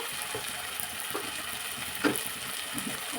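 Tomatoes with salt fry in a pan for beetroot palya, a steady close sizzle with faint stirring scrapes and one brief louder clink near the middle.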